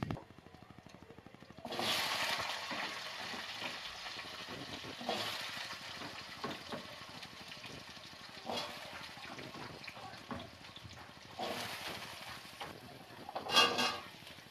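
Raw papaya and potato pieces drop into a hot pan and sizzle steadily, the frying hiss surging in loud bursts as the pieces are stirred, with a few scrapes throughout.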